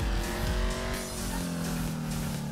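A Sentinel sports car in GTA 5 Online drives onto a lot, its engine droning steadily close up with shifting revs and a faint tire squeal, without any talking.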